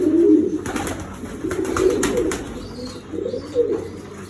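Pigeons coo in a loft, low throaty rolling calls repeating close by, with a faint flutter or rustle in the background and no speech.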